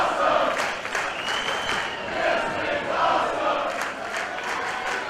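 A wrestling crowd at the Ultratorium cheers and applauds through a women's match, a dense, loud, sustained roar of clapping and shouting with no breaks.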